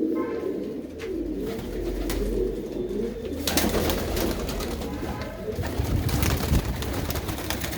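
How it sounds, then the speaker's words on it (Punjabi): Female pigeons coo in a steady low murmur close by, later joined by rustling and scuffling movement that grows busier toward the end. "ਇਹ ਆ ਕਬੂਤਰੀਆਂ"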